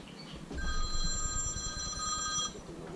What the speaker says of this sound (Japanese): あれこんな大事な時に電話が鳴ってる。